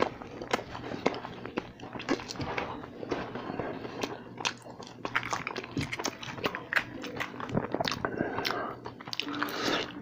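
Someone bites into and chews a McDonald's Big Mac up close, producing soft crunches and wet mastication clicks in an irregular rhythm, fairly quiet and intimate with no talking.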